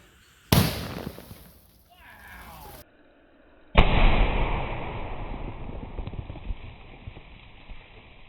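A muzzleloader fires a Hornady XTP handgun bullet into a water jug: a loud, sharp blast, then a brief lull and a second heavy report that trails into a long, noisy rumble outdoors.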